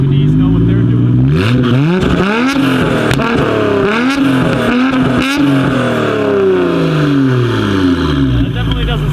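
A Nissan Skyline GT-R engine revs hard and loud up close, rising and falling through repeated climbs in pitch with exhaust pulses chattering, while voices talk over it.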